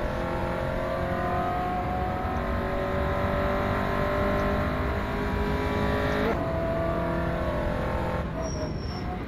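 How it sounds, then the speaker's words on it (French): A BTCC race car engine in the racing game rFactor 2 drones loudly and steadily with high tonal whine, brakes squealing faintly as the pitch shifts near the end; no voices. "t'entends bien les freins grincer comme ça"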